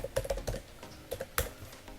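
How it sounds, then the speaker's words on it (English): Keys tapped on a computer keyboard while entering a password during a MySQL install on macOS, a quick irregular run of close, crisp clicks with short pauses and one sharper stroke near the end. "So I'll enter a strong password"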